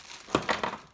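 Snipping a piece of oil lamp wick, bought for repairing a broken tin or pewter snotneus oil lamp: a few short, close crinkly cuts and rustles in quick succession, fairly quiet with no talk.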